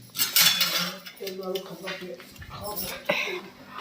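Dishes and pots being scrubbed and washed in a home kitchen, with clinking and scraping of utensils close by and a voice talking over it.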